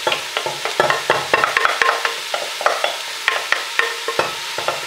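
Vegetables sizzle in a large saucepan while a utensil scrapes and stirs them in quick, uneven strokes, close and clear.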